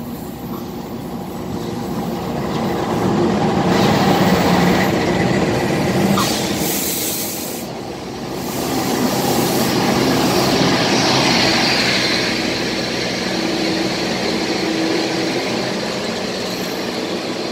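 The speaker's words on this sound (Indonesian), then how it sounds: "KA Cikuray kembali disilang oleh rajanya jalur selatan kereta api Argo" The Argo Wilis passenger train rumbles past close by on the adjacent track in Indonesia, wheels clattering and a broad roar swelling, easing briefly, then building again and sustaining throughout.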